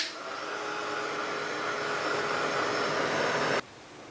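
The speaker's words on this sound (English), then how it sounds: "by this stage you've figured out I'm drying between every layer of colour" A hair dryer blows steadily to dry layers of paint on a mixed media panel, a close continuous whooshing roar that holds for over three seconds and then cuts off abruptly.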